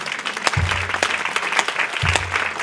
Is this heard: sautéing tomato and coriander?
no